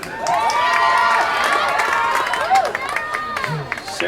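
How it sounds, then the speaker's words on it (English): Spectators at a girls' lacrosse game against Baldwin cheer loudly for a goal by number 48, Sarah Tayback, with high-pitched shouts and whoops layered over clapping and a sustained crowd roar. "Sarah has a cheering section that's second to none"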